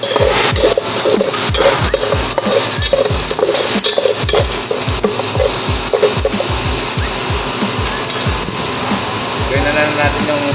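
Garlic sautés in a cooking pan with a busy, loud sizzle and quick, repeated spatula scrapes and knocks in a steady rhythm, while a voice talks over the frying.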